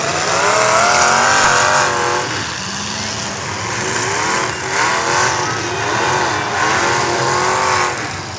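An LS-engined race car screams at full throttle during a racing event, loud rising and falling revs over several gear changes with other engines mixed into the noise, heard alone without talk.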